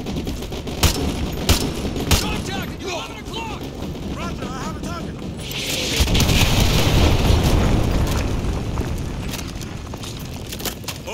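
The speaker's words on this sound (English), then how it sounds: "Ramirez, call artillery on the enemy vehicles." An artillery strike pounds enemy vehicles in Call of Duty MW2 Remastered during a war in Virginia, with scattered gunfire and voices, then a deep rolling barrage of explosions swelling loudly and rumbling on.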